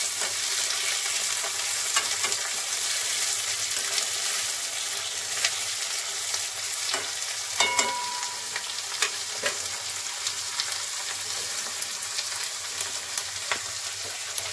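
Pasta ingredients frying in a pan give a steady, close sizzle and crackle throughout, with scattered pops and a few light utensil scrapes, and no one speaking.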